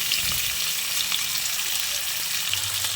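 Chicken with ginger and green chili paste sizzles in a pan of frying onion and garlic, a steady close crackle with faint stirring scrapes and no talking.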